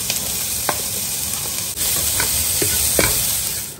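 Garlic, onion and green chillies fry in a pan with a loud, steady sizzle close by, broken by a few sharp clicks and scrapes of stirring.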